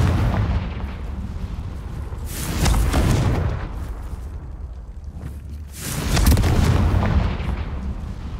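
A Confringo spell blast in Hogwarts Legacy on PS5: two deep, rumbling booms a few seconds apart, each swelling and slowly fading, loud and alone.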